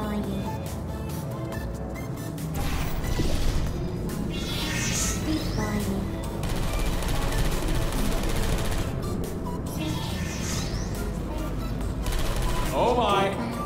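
Turrets in the video game Portal Stories: Mel fire rapid, sustained bursts of gunfire that run almost continuously, loud and dense, with a few short gaps.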